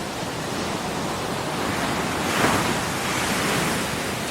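Ocean waves breaking on the reef at Margaret River during a surf contest, a continuous loud roaring wash that swells slightly midway, with no voices.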